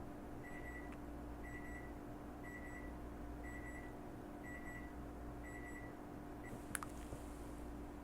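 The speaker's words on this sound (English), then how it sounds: "my tea's ready. I don't know if you can hear the beeping." A short electronic beep from an appliance signalling tea is ready repeats six times at a steady pace over a constant low hum, then stops, followed by a brief click.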